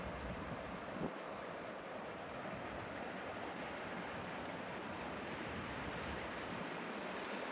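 Steady, faint roar of ocean surf along the shore of a coastal golf course in Japan, a continuous wash of waves with some wind noise mixed in.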